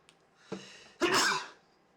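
One person sneezes indoors, with a short sharp inhale followed by a loud, explosive burst that fades quickly.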